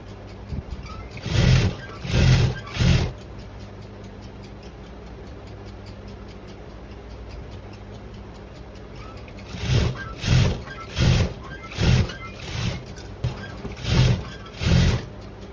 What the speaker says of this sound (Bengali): এইভাবে একটা ভাঁজ দিয়ে এখানে বসিয়ে সেলাই করে নেব।